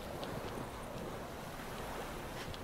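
A boat moves across open water in the game The Witcher 3, with a steady wash of waves and wind noise, fairly faint and continuous, no talk.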